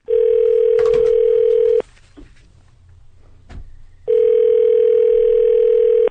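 A steady telephone dial tone sounds loudly for about two seconds, breaks off for a quiet gap holding faint clicks, then returns loud and unbroken for another two seconds.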